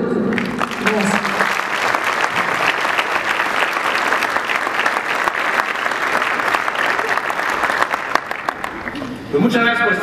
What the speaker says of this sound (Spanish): Recibamos con un fuerte aplauso a Javier Matu.